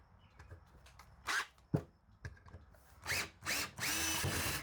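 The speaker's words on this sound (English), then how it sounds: "So I'll drill that one out." Several short bursts of a power drill whirring as it drills out a hole for a horse trailer fan, the last ones longer and sustained, with faint clicks and handling noise between them.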